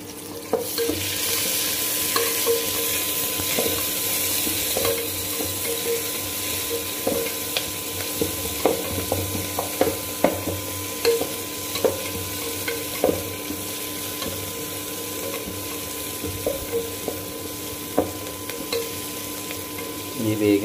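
Onions for sambar frying in a hot pan, a steady close sizzle with repeated scrapes and clicks of stirring running throughout, no talk.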